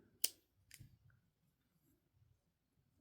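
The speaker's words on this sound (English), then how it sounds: "now I'm gonna cut off my yarn" Scissors cutting crochet yarn: a few quiet, crisp snips and clicks spaced apart in an otherwise near-silent room.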